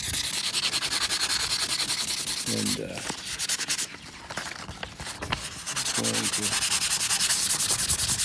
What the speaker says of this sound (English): give it a light sanding right in that area